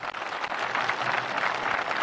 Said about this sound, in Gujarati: તાળીઓના ગડગડાટથી એને સમર્થન આપીએ